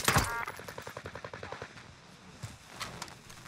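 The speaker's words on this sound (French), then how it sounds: "Ça nous tire de là-bas, les gars." Automatic gunfire in the video game Warzone: a sharp opening shot, then a rapid burst of quieter, regularly spaced rounds that fades, followed by a couple of distant shots.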